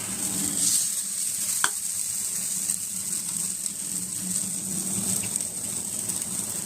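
Onion and tomato bajji frying in a little oil on a hot cast iron grill pan, a steady close hiss and crackle of sizzling with faint stirring scrapes, no talking.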